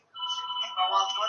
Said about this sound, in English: Oh, your phone is ringing.